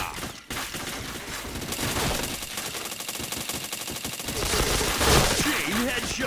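Rapid automatic gunfire from a shooting video game, loud sustained bursts of overlapping shots firing almost without pause for several seconds.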